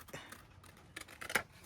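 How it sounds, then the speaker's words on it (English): Scissors snip through a paper cash envelope template in a few short, crisp cuts, close and quiet with no talking. "I'm sure I'm going to mess this up with the scissors"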